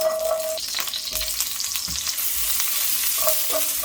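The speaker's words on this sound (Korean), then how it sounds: "양파를 먼저 이렇게 볶으세요." Diced onion stir-frying in a pan with a spoonful of cooking oil, a steady close sizzle with scraping and stirring clatter running throughout and a few brief utensil clicks.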